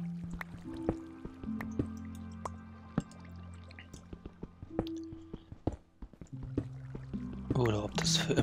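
Water dripping in the Minecraft video game, with sparse sharp drips scattered over a low droning game ambience and a brief louder watery burst near the end.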